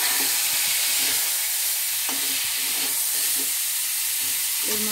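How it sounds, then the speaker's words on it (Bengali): Cauliflower florets frying in hot oil in a pan for a green cauliflower and egg curry, a steady close sizzle with occasional stirring scrapes and spatters throughout, no voices. "সেই তেলে আমি কপিগুলো দিয়ে দিচ্ছি"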